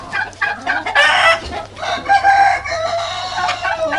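Guinea fowl, a male among hens, call in harsh, loud, repeated bursts while fighting, close and continuous with short gaps, no talk over them.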